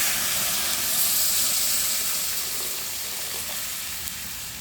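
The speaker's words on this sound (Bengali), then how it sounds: "এখন আমি গরম জলটা দিয়ে দিচ্ছি" Hot water hits a sizzling pan of Bengali curry with kochur loti and small puti fish, giving a broad, steady hiss that is loudest at first and then eases slightly.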